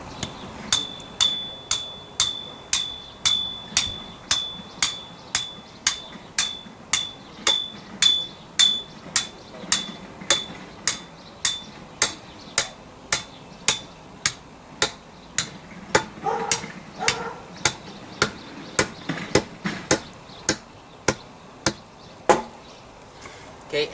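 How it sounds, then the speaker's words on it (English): A hollow steel tube is driven into the ground with repeated hammer blows, about one sharp metallic strike per half second, each one ringing briefly, steady and close for the whole stretch. "I'm driving it 3 feet into the ground"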